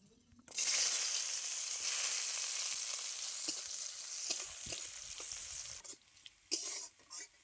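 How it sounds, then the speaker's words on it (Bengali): Chopped onion hits hot oil tempered with bay leaf, cardamom and cumin, bursting into a loud close sizzle that settles into a steady hiss with stirring clatters, then briefly fades near the end. "এবারে আমি দিয়ে দিচ্ছি পরিমাণ মতো পেঁয়াজ কুচি"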